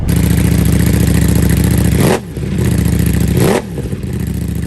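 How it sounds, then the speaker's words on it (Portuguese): Ducati V4 motorcycle engine revving hard and loud, a dense sustained roar that briefly dips twice as the throttle closes and rises again. "não há maneira de competir com o som do V4, imaginem, Ducati V4"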